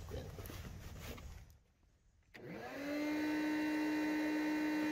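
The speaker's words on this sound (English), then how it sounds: "after I get the nest home, I try to vacuum up as many of the adults as I can" A vacuum cleaner sucks up yellow jacket wasps from an underground nest, starting with a pitch that rises and then settles into a loud, steady whine. Before it starts there is rustling and handling noise, then a short quiet gap.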